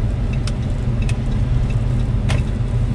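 Cars pass steadily along a road, a continuous loud rumble of traffic with no gaps, recorded close by, with no talking.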